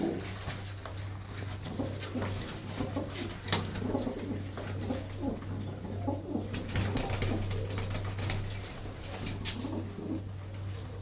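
Pigeons with long beaks and black eyes coo softly and repeatedly nearby, overlapping low throaty calls with occasional light patter and rustling in the background.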